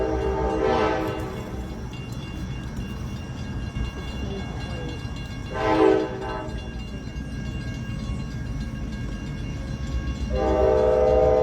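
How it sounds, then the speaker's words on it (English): A train passes outside during an indoor lecture, its horn sounding in three separate blasts, one near the start, one mid-clip and one at the end, over a steady rumble of rail cars with no talk. "oh, another train. Love the trains."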